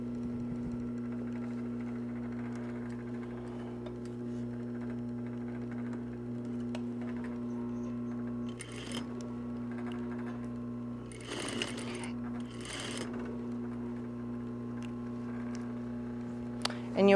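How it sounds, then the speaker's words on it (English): A single-needle industrial sewing machine stitches a half-inch seam on a reversible jacket, humming steadily and close by throughout, with a few brief rustles and clicks from the fabric being handled. "and then sew down and finish off at this corner"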